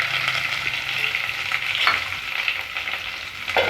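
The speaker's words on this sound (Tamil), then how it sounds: "வெங்காயம் நல்லா கோல்டன் ஃப்ரை ஆகிற வரைக்கும் வதக்கி விட்டுட்டே இருங்க." Small onions sauté in hot oil with dried red chillies and curry leaves for Tamil dal sambar, giving a steady close crackling sizzle throughout with occasional stirring scrapes and no talk.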